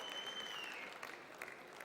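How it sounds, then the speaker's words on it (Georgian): Audience applause at a semifinal of the Georgian TV talent show Nichieri: a steady wash of clapping from a crowd, heard faint and somewhat distant, with no voices over it. "Აპლოდისმენტები ამ არაჩვეულებრივ ადამიანებს გილოცავთ"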